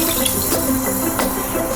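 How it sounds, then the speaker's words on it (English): A cup of water poured into a mixing bowl while making pumpkin streusel mini muffins, a steady close splashing trickle that runs without a break. "We're going to add 1 cup of water."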